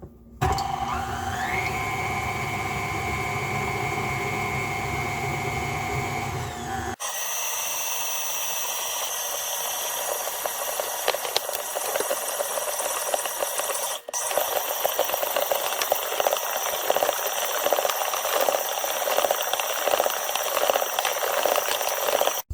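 A bread machine mixes a stiff cinnamon raisin bread dough, its motor giving a steady whining hum that shifts into a louder, rougher churning with rattles and knocks as the kneading continues, with no voices.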